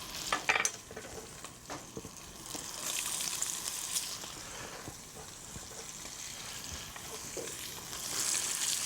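Pancetta and onions frying together in a pan for amatriciana, a continuous close sizzle with stirring scrapes and light clinks, swelling louder toward the end; no talking.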